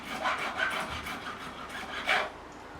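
Profiling file rasping along the frets of an Ibanez Prestige RG guitar, a few short, close scraping strokes at moderate level in a quiet room.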